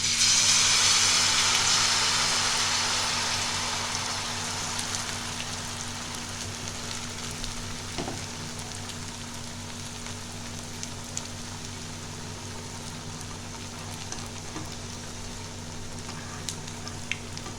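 Malpua batter frying in hot oil for a Bengali Ratha Yatra sweet: a steady, loud sizzling hiss that starts strong and settles to a softer, continuous bubbling crackle, with no talking.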